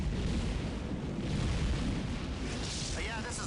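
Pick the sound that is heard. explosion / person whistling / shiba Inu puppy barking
explosion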